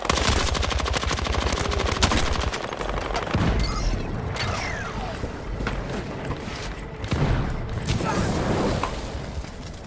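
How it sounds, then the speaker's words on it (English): Rapid machine-gun bursts and scattered gunshots rattle nonstop in a Battlefield match as incoming fire strikes the player near a tank, dense and loud throughout with heavier impacts around the middle and end. "Oh, I'm being shot now."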